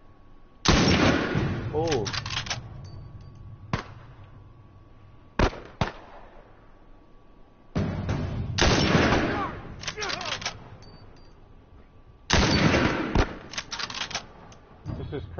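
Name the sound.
sniper and gunfire in the video game The Last of Us Remastered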